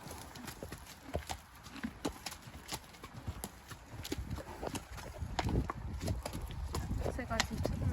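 A cheeky horse's hooves clip-clop in quick, uneven steps close by, growing busier and louder toward the end, with someone talking over them.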